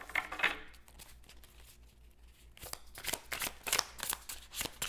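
Tarot cards shuffled by hand in quick riffling bursts, a brisk flurry at the start, a quiet pause, then a steady run of crisp shuffles, close and fairly loud, no talking.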